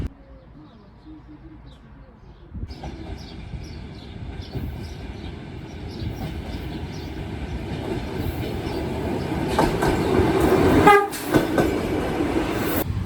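A train rumbles past, building from a low roar into a loud rolling clatter, with a short horn-like blare near the end.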